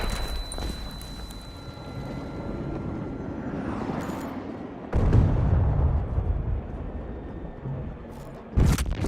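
A grenade goes off in Battlefield 2042, a loud, close blast rising out of constant battlefield rumble and distant gunfire, with another sharp burst near the end.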